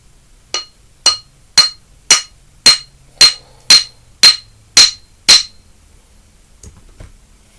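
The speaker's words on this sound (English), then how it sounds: "I'm gonna try flattening it out on this here iron thing" A hammer strikes red stone on an iron dumbbell ten times in a steady, evenly spaced rhythm. The blows are loud, close and ringing, followed by a quiet tail.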